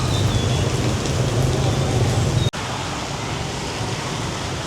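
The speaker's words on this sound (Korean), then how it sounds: "비가 엄청 오네" Heavy rain pours steadily on a street in Hanoi, Vietnam, a dense continuous roar with a brief cutoff midway before resuming just as loud.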